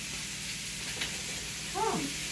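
Onion, garlic and shrimp sizzle in a hot pan with a steady hiss, close and even, with a short louder burst of spatter near the end and no talk.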